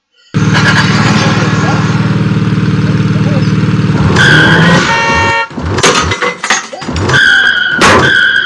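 A car in a racing video game roars with a steady loud engine drone, then shifts into screeching tire skids and revving bursts near the end.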